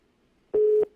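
A steady telephone busy tone follows a cut phone call: a single loud, clean beep lasting about a third of a second, heard alone after near silence.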